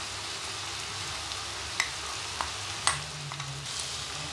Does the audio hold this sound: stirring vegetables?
yes